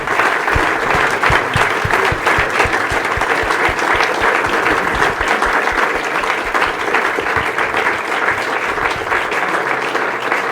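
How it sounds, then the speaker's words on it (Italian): A crowd at a village Madonna festival applauds a priest marking fifty years of priesthood, with loud, steady, continuous clapping for the whole stretch and no voices over it. "vorrei rivolgere a lui un ringraziamento e un applauso"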